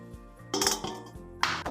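Two short bursts of scraping and clinking come close up as glutinous rice flour paste is stirred in a pot, set over a quiet steady hum, with no talking.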